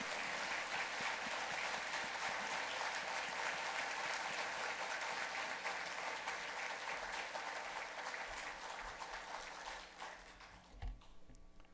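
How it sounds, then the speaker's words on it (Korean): A church congregation claps to welcome a pastor to the pulpit for an evening service, a dense sustained wash of applause that slowly fades out near the end. "우리 박수로 모시겠습니다."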